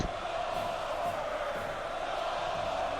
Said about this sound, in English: You hear the crowd going wild for him.